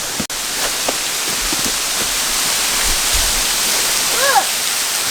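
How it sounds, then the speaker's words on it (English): A rainforest waterfall roars in a loud, constant wash of rushing water, with a few short exclamations from people close by. "waterfall"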